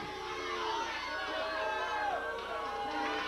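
Wrestling arena crowd at a 1996 USWA TV event, a continuous roar of voices, cheering and shouting throughout, fairly distant and steady.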